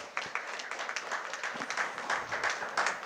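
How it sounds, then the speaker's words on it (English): Audience applause greeting a speaker at a legal symposium on succession planning and inheritance law in Kolkata, steady crowd clapping throughout with scattered sharper claps standing out. "give a big round of applause to sir"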